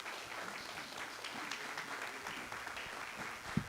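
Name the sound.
audience applause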